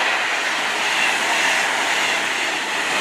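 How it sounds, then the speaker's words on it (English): Two coupled Super Voyager trains, unit 221107 at the rear, rush through Stafford on the West Coast Main Line toward London Euston, a steady loud rumbling hiss of passing carriages with no voices. "It was a double pairing of Super Voyagers, and it was headed to London Euston from Holyhead."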